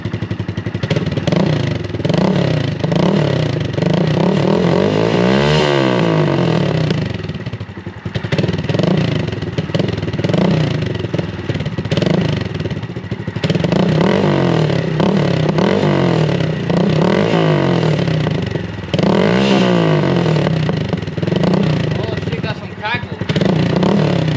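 A Honda Grom motorcycle engine fitted with an aftermarket exhaust runs close and loud on its first start, revving up and down repeatedly with a rough, buzzing idle between throttle blips.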